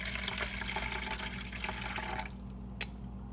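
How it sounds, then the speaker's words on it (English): Filtered tap water poured into a bowl for a bread sponge, heard as a steady faint splashing stream that stops near the end, followed by a single drip. "8 ounces of filtered tap water."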